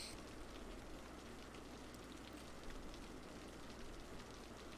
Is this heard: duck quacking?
no